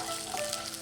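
Shallots, garlic, candlenuts and peanuts frying in oil, a continuous dense hiss and crackle of sizzling with faint stirring, steady and fairly quiet, no voices.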